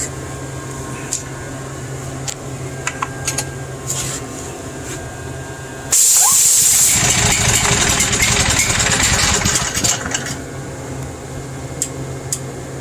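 A Coleman Powermate generator engine on full choke coughs into a loud, rough burst for a few seconds and then fades back to a low background hum.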